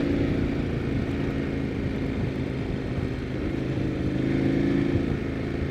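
Adventure dual-sport motorcycle cruising along an alternate desert route on a clear, warm day, a steady engine drone with constant wind rush, loud and close throughout, the engine tone lifting slightly near the end.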